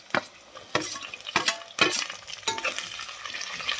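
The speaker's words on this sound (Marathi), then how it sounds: "आपला कांदा भाजलेला आहे बघा. यामध्ये आता टोमॅटो घालायचा आहे." Tomatoes go into a pan of browned onions with cinnamon and cumin for egg dum biryani, giving sharp bursts of sizzle and stirring scrapes at irregular intervals over steady frying hiss.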